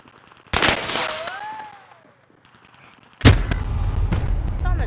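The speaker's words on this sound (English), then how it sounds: "We're taking fire." Gunfire in the Warzone video game: a loud burst of shots, a lull with a whistling tone, then a second sustained roar of heavy firing that continues to the end.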